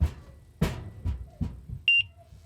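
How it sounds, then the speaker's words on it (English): A Uniden RD27 X and K band radar detector gives a quick pair of high electronic beeps near the end, after several dull knocks and handling thumps close by. "Could you imagine a tool like this beeping like this all the time while you're driving?"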